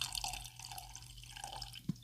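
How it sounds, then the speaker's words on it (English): Very Old Barton bourbon whiskey pours from a bottle with a big black screw-on plastic cap into a glass, giving soft liquid dripping and splashing sounds over a low room hum, ending in one sharper clink-like drip. "let's get a pour on."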